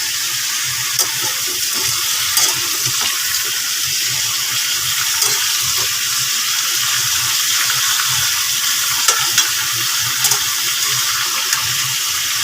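Tap water runs into a kitchen sink as bottles are washed one or two at a time, a steady close splashing stream with occasional clinks and knocks, no talk over it.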